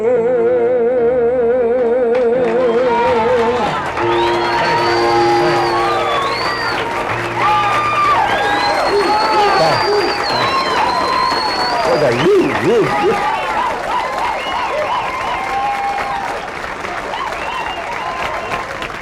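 Applause from the audience at a private party comedy show fills the room with a sustained wash of clapping, with voices and tonal sounds layered over it.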